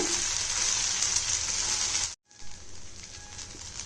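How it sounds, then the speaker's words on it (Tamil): A wheat rava dosa fries in oil on a pan, giving a soft, even sizzle that cuts out briefly and returns quieter after the dosa is turned. "திருப்பி போட்டு இன்னும் கொஞ்சம் எண்ணெய் ஊற்றி கொஞ்சம் அடுத்த சிம்மில் வச்சு எடுங்க."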